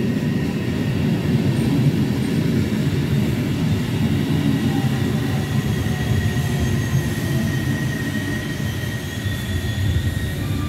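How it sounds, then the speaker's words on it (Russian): A continuous low rumble of a double-decker electric commuter train running on rails fills the clip, steady and close, with faint high squeals. "Двухэтажная электричка."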